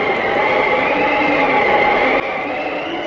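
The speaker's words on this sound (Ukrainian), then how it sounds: "звук заметілі та сильного вітру." Blizzard and strong wind roaring steadily in a dense, loud, unbroken rush of noise that barely changes over a few seconds.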